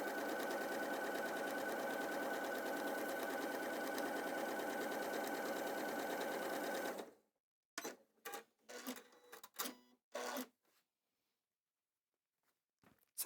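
Sewing machine running a quarter-inch seam hums steadily for about seven seconds, close and even, then stops, followed by a few quiet clicks and handling sounds.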